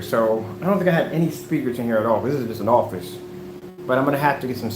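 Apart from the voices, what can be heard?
No everyday noises stand out.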